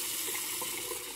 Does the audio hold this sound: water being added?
yes